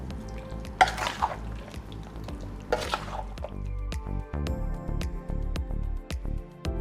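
Spices are stirred by hand into raw fish pieces in a bowl for a Bihari fish curry, giving wet squelching and clinking sounds in uneven bursts, close and moderately loud.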